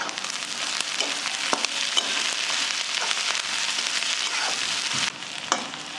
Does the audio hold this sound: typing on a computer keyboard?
no